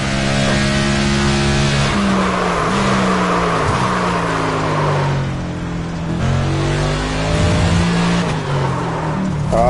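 A NASCAR 25 race car drives a lap, its loud engine droning and revving close up, pitch climbing and dropping through gear shifts and corners with no voices.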